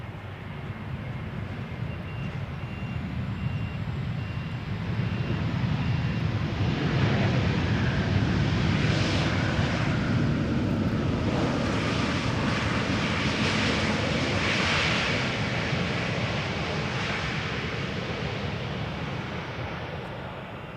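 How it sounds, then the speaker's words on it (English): An EasyJet A320neo from London Luton lands at Schiphol, its engine roar rising from a distant rumble to a sustained loud wash, then slowly easing, with some wind on the microphone. "EasyJet up next. A320neo arriving from London Luton."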